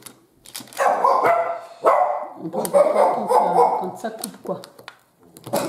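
Small dogs bark repeatedly indoors in bursts of several sharp yaps, fairly close and loud, while a person talks over and between them.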